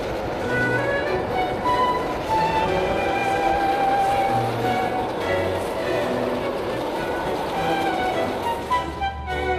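A Long Island Railroad train running on the Montauk branch toward the South Fork, giving a steady rumbling ride with rail noise throughout.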